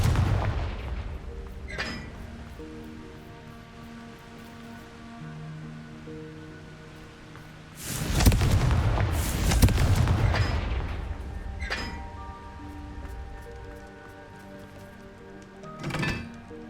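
Blasting spell explosions in Hogwarts Legacy, several sharp booming bursts with a heavy double blast in the middle, set over a low rumbling game ambience.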